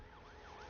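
An ambulance siren in a Hindi-dubbed Telugu action movie wails in a rising and falling sweep, continuous and faint across a short moment with no talk over it.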